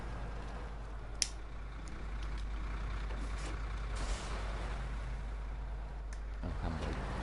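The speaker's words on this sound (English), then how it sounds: "handbrake" Truck air brake in the SnowRunner video game; a faint, steady engine drone with brief sharp hisses and a short click, quiet and in the background with no speech.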